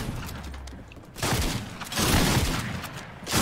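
Shotgun blasts ring out in the video game Fortnite, two loud broadband bursts with decaying tails against quieter in-game ambience.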